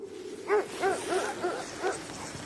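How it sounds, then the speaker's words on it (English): Dogs bark and yip in the Arctic, about five short, evenly spaced, fairly close barks with a slightly whiny tone. "Look at the dogs."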